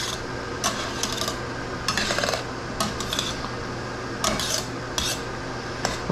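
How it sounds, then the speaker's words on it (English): A spoon scrapes and stirs through a thick, spicy nacho mixture in a pot, giving a steady rubbing sound with intermittent metallic scrapes over a low background hum. "We're just gonna stir it."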